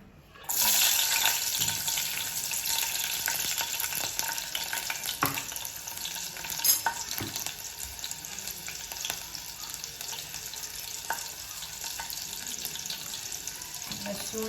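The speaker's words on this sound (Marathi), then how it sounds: "तो तडतडला आहे" Garlic crackles and sizzles steadily in hot oil at close range, with a few sharp pops and clinks breaking through the continuous hiss.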